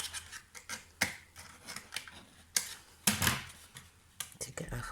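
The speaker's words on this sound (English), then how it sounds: "I'm just going to use my scissors" Scissors snip and handle paper card close by in a string of short, irregular cuts and rustles, some sharper than others, quiet overall.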